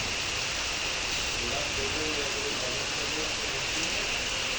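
Steady rain pours in a dense, even hiss that fills the whole space, with a faint voice barely audible beneath it.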